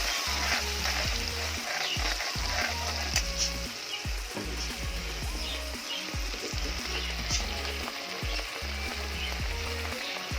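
Palak paneer of spinach and cottage cheese sizzles and crackles steadily in a frying pan while being gently stirred, a close, continuous frying hiss with faint scraping strokes throughout.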